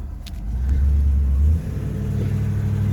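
An Oldsmobile Toronado engine pulls in second gear, a steady low rumble that swells as the car accelerates, then dips briefly and settles back into a constant drone.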